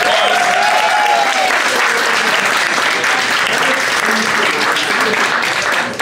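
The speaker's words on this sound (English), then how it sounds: "Let's give him a round of applause." A comedy show audience applauds and cheers for the headliner, a thick, sustained roar of clapping held steady for several seconds at close range.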